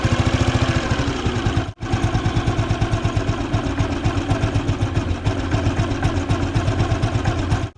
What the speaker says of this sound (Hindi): सो इंजन की साउंड तो भाई अच्छी निकली है।